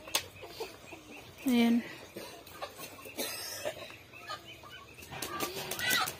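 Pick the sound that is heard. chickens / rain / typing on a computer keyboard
chickens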